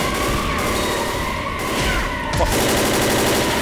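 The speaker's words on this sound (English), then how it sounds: "I'm about to get myself a damn assault rifle" Assault rifle gunfire in Left 4 Dead, dense rapid bursts layered with game chaos and zombie noise, loud and continuous, with a player shouting an exclamation over it.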